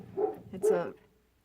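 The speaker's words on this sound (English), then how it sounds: "Excuse the dog up there." A Doberman barks indoors from somewhere upstairs, giving two short, close woofs in quick succession that overlap a brief spoken phrase.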